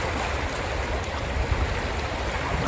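A stream of running water rushes loudly and steadily nearby, a dense continuous wash of noise with no other sounds standing out.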